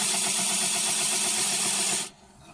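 A power saw cuts through a layer of plywood with a loud, steady whine and grinding rasp for about two seconds, then stops abruptly, leaving a quiet room tone.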